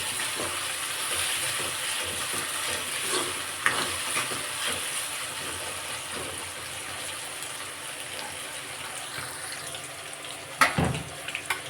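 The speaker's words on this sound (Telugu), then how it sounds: "చూసుకున్నారా ఇక్కడ ఫిష్ కూడా ఫ్రై అవుతున్నాయి" Pond fish frying in a pan for a drumstick fish curry give a low, steady sizzle. A few soft clinks and a sharper knock come near the end.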